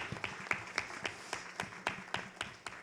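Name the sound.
audience applause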